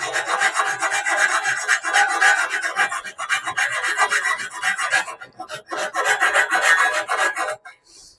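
Rough, rhythmic rasping strokes come from a hand tool taking material off a part in a cycling workshop. The loud back-and-forth grinding continues with short pauses and stops near the end.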